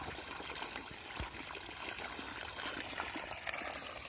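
Water trickles and streams steadily into a rice paddy being flooded for dry-season planting, a constant faint outdoor flow with no talk over it.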